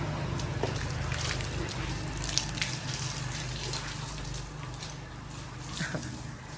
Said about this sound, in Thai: วันนี้ สองเชือกมาเล่นน้ำนะคะ อยู่หน้าบ้าน